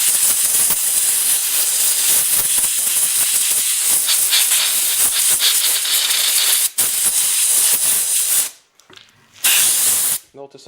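Compressed air blasts loudly and continuously to clean fresh welds on a Snapper racing tractor axle, a sustained close hiss that cuts off briefly near the end before resuming.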